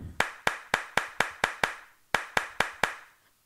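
Children at a children's liturgy session clap in a fairly steady rhythm of about a dozen crisp, close claps, with one brief break partway through, then silence.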